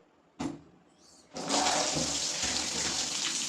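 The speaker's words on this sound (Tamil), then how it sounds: "நார்மல் வாட்டரில் வந்து நல்லா வந்து வாஷ் பண்ணிக்கலாம்" A tap opens after a couple of short knocks and water runs steadily and loudly into a basin, splashing continuously while feet are washed with plain water.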